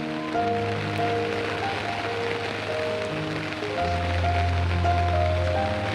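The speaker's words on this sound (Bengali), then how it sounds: "অনেক গরমের পরে বৃষ্টি পড়লে না খুব ভালো লাগে" Steady rain falling, a constant broadband hiss that stays fairly even throughout, with some low tonal hum underneath and no clear talking.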